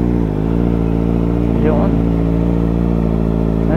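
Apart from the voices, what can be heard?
many motorcycles at a shrine parking area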